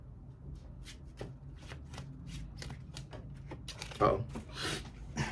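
Tarot cards being shuffled by hand, a steady run of soft papery riffles and taps with a louder flurry near the end, over a low background hum.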